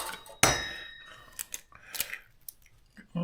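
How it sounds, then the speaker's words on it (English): Eggs cracked into a bowl while making a vegetarian tofu dish: one sharp crack against the rim, followed by a few softer taps and clinks of shell and bowl, close and fairly clear. "Crack the eggs in the bowl."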